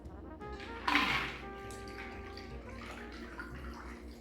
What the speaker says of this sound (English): You're just going to take the lid off and just pour it into your glass.